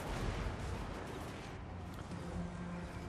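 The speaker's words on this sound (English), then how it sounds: "look at those flame cannon shots arcing in" Flame cannons firing in the Total War: Warhammer 2 video game, a continuous dense rumble of distant booms and crackling battle noise with no clear separate shots and no talking.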